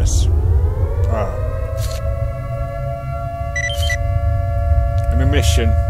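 A S.T.A.L.K.E.R. Call of Chernobyl emission warning siren rises into a long, steady wail that holds throughout, with a few short sharp chirps and noises popping in over a low rumbling background.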